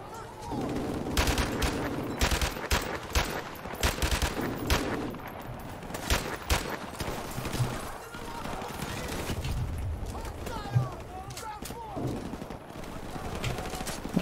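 Dense, rapid gunfire from Modern Warfare Remastered fills the scene, loud bursts and single shots layered over game ambience, with a voice talking along throughout.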